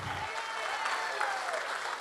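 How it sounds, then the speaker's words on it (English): Steady applause from a crowd, dense clapping that holds at an even level throughout. "So they all deserve another nice round of applause."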